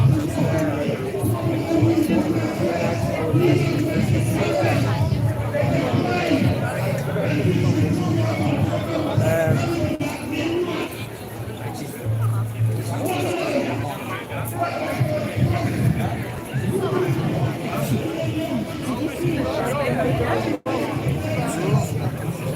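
Crowd chatter at a freedom demonstration on the streets of York, with many voices blending into a steady, dense outdoor hubbub throughout.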